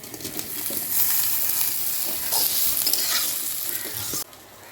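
Fried potatoes, garlic and onion stirred in hot oil while cooking a masoor dal dish, with a steady close sizzle and scraping spoon strokes that drop off abruptly near the end.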